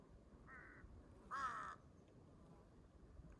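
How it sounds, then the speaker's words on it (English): Outdoors in the mountains, a crow gives two short, hoarse caws, the second louder, over a quiet bed of faint natural background noise. "I hear the birds"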